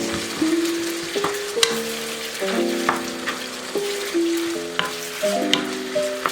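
Sweet bean paste, soybean paste and soy sauce are mixed into browning pork for steamed buns, a steady sizzle under repeated clinking scrapes of a utensil against the pan, while music plays underneath.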